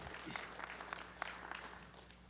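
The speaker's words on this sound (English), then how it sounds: "Give yourselves another round of applause, please." A conference audience gives a round of applause at a briefing, a steady wash of many hands clapping at moderate distance with a faint low hum underneath.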